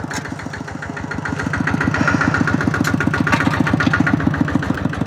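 A tractor engine runs in a rice field, a close, steady rhythmic chugging of rapid, even pulses that grows slightly louder partway through and continues without pause.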